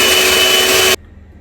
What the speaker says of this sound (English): We're just going to whisk to very stiff peaks.